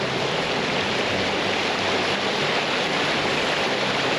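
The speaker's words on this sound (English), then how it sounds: "You have a creek right over here" A creek flows beside a campsite at Great Sand Dunes National Park, giving a steady, even rush of water that carries on unbroken with no voices.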